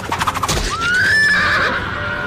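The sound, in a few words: horse neighing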